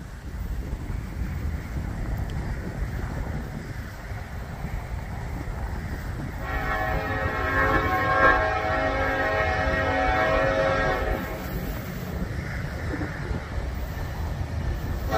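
A Norfolk Southern train led by a heritage unit locomotive rumbles past under wind noise, then its horn blares for about five seconds midway before the rolling noise continues.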